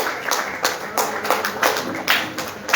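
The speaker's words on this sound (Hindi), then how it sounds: "बहुत बहुत जोरदार तालियों के बीच में हमारे cabinet member R K Sharma ji का स्वागत किया जाए" Audience clapping to welcome a cabinet member at a public event in Kichha, Uttarakhand, heard as a close burst of uneven claps and taps over crowd murmur.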